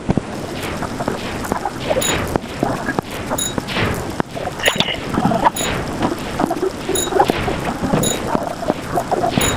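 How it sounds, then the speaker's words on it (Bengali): Heavy video game storm rain pours steadily, broken by sharp thunder-like cracks and crashes throughout, loud and close. "দেখতেই পাচ্ছি গেমটার মধ্যে একেবারে কাল বৈশাখী বৃষ্টি"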